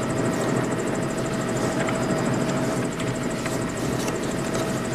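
Helicopter flying over Florida near SeaWorld, heard from inside the cabin as a steady, moderately loud engine and rotor drone with a faint rhythmic chop throughout and no talk.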